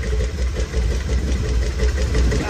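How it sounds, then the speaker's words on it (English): An old mud truck's big-block engine, once seized and flooded, runs on a freshly installed carburetor with its belts fitted, a loud, steady, rough idle rumbling without pause and with no voices. "new carburetor's hooked up. Let's give it a quick test shot and see how it runs"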